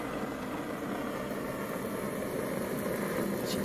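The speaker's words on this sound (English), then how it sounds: "Start up the engine." Propane-fired Stirling engine running steadily to charge a phone, a continuous mid-pitched mechanical drone with a faint rhythmic vibration, close and unchanging throughout.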